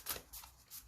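A large tarot card deck is shuffled by hand, giving a brief, soft papery riffle and flutter of cards, heard close and quiet.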